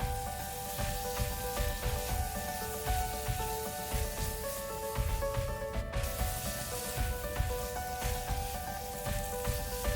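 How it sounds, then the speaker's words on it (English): Steady, dense sizzling of Kadaknath chicken frying in a hot pan on high flame, continuous and close, with a crackling hiss throughout. "So I have been frying the chicken for almost 4 minutes now."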